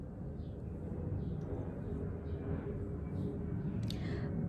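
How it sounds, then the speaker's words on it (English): A plane passes overhead at a distance, heard as a steady low rumbling drone that holds throughout without clear peaks. "Another plane."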